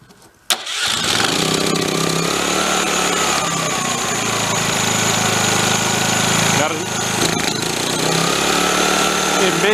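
An old portable generator engine roars to life after a brief start and runs loud and steady nearby, with a rough, rattling drone and a slight dip partway through.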